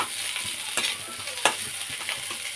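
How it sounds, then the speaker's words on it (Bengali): Food frying in a pan is stirred, with a steady sizzle beneath irregular scraping strokes and a few sharper clacks of the utensil against the pan, close by and with no voices. "এটা নাড়িয়ে নিচ্ছি"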